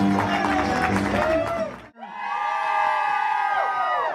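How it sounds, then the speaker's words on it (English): A crowd at a live show claps, cheers and whoops loudly, a dense roar that dips briefly to near silence before surging back with shouts and high cheering. "Let's give them a great big applause out there"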